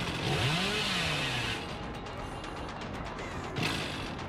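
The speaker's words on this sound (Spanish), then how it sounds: "Tratando de cazarlos con la motosierra." The Hillbilly's chainsaw in the video game Dead by Daylight revs loudly and continuously, with a rising and falling whine and a few crashing thuds mixed into the game noise.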